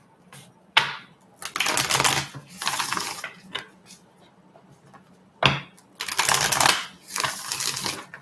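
Tarot cards being shuffled in bursts of riffling and slapping, with sharp taps between bursts, close and fairly loud, no talking.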